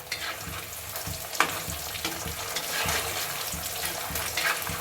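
Taro root pieces fry in a pan, a continuous close sizzle and crackle with scattered pops and faint scraping knocks of a spatula turning them, no voices.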